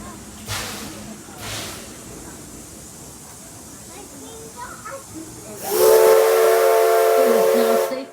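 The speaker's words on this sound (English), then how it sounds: "Once again, wait for that whistle." Steam locomotive whistle at the Henry Ford Museum, Edison #1 train, a loud sustained whistle blast near the end after soft steam hiss and background talk as the train pulls into the station.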